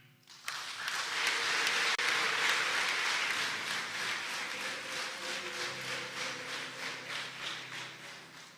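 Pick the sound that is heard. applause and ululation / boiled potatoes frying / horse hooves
applause and ululation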